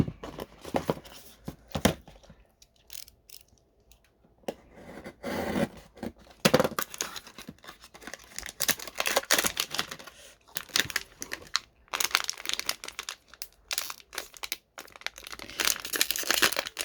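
Pop Mart Sanrio party series figure packaging being opened, with irregular bursts of plastic and foil crinkling, tearing and rustling separated by short quiet gaps, close and moderately loud.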